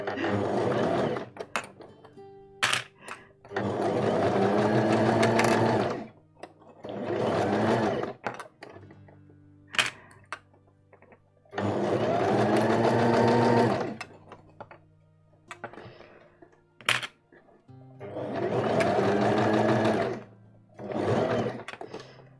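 A sewing machine stitches a dress, running in several long bursts of steady whirring with short pauses and a few clicks between them, close and loud.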